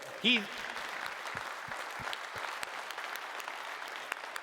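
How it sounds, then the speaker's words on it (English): A comedy roast audience at TwitchCon 2017 applauds steadily for several seconds in a dense, even wash of clapping, with a brief voice or whoop near the start. "I'd say another round of applause."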